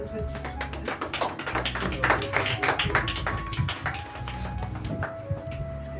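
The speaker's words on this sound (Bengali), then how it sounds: "হাততালি হোক" A crowd applauds at the opening of an artist's second solo exhibition at an academy gallery: dense, steady clapping for several seconds, close by, with voices and chatter mixed through it.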